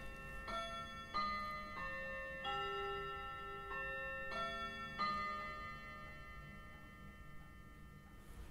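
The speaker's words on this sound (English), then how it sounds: "That's me Edwardian clock." An Edwardian clock sounds indoors: a series of ringing, bell-like metallic strikes at uneven intervals, each decaying slowly over a quiet background, heard alone and fairly softly.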